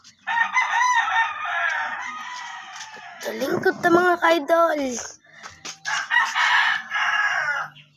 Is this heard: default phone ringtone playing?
no